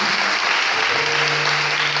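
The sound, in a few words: congregation applauding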